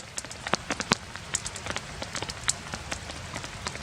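Steady rain patters on a surface nearby at a winter campsite, with scattered sharper drips landing irregularly over a soft continuous wash.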